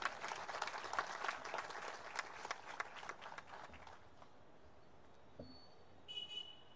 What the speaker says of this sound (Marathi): या अंकाचं आपण जसं टाळ्या वाजवून स्वागत केलं